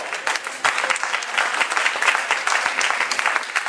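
A church congregation applauds and cheers for Jesus during a service, giving loud, dense, continuous clapping from many hands that fills the whole stretch without a break.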